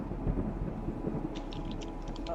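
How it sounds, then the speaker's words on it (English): A low, distant rumble of thunder rolls faintly beneath light patter, quiet and far off with no voices. "off in the distance, another crack of thunder"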